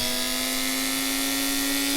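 A small cheap rotary sanding disc grinds steadily with a constant high whine and harsh broadband rasp, loud and unbroken for the whole stretch.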